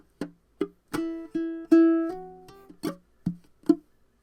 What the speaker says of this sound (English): you're going to mute and then you're going to kind of chuck down, followed by a thump